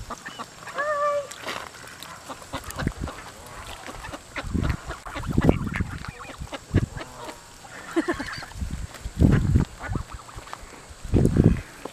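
Geese honking and squabbling at the Kellogg bird sanctuary, with loud, repeated harsh honks and calls bursting out near and far among other waterfowl noise, while a person talks now and then.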